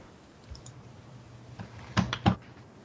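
Several faint clicks sound on a computer keyboard, then two or three sharper, louder key presses close together near the end. The background is otherwise quiet.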